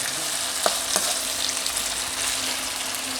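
Pieces of chicken malai tikka fry in a pan with a loud, constant sizzle and a couple of sharp spatters, no voices over it.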